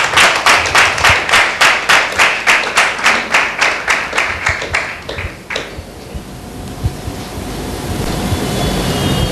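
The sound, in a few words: audience clapping loudly in a church meeting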